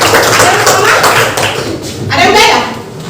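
A class of children claps together in a burst of quick, overlapping claps, with children's voices chattering through it nearby.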